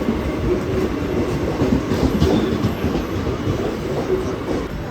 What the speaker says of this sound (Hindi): काफ़ी इंतज़ार करने के बाद मुझे मेरी ट्रेन आती दिखाई पड़ी